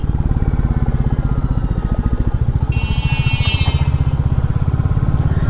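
Royal Enfield Classic 350 motorcycle engine thumping underground, a loud, steady, close single-cylinder beat with even rapid pulses throughout and a brief higher whine partway through.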